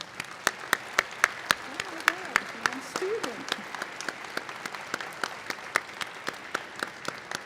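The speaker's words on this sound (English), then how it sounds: "please stand and we'll give you another round of applause as well" Scattered applause at a McHenry County College fall commencement ceremony, individual claps sounding as distinct sharp hits across the hall rather than a dense roar, with a voice speaking briefly over them.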